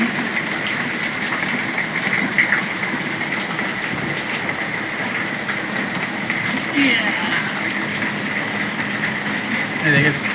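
Steady rain falls outside, a continuous close hiss of drops on surfaces with no breaks; people can be heard talking over it.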